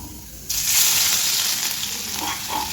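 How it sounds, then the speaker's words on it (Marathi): Finely chopped garlic hits hot oil and bursts into a sudden loud, hissing sizzle that holds steady and close, easing only slightly over the next two seconds. "इकडे तेल टाकले आता आपल्याला टाकायचं आहे लसूण एकदम बारीक केलेलं आहे"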